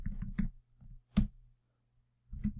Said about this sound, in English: I'm thinking while I'm typing, so my typing is going a little slower.